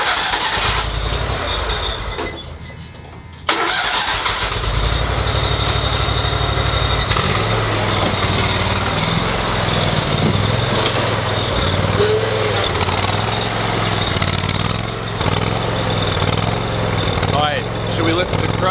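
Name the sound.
Toro Grand Stand MultiForce mower starting and mowing grass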